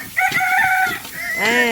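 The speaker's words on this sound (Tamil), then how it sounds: "கோழி கூட ஆமான்னு சொல்லிடுச்சு பாருங்க." A rooster crows loudly and close by, one full drawn-out cock-a-doodle-doo with a rising then falling call.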